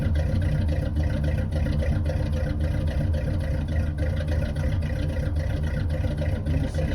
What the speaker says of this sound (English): It was a cold start, no doubt.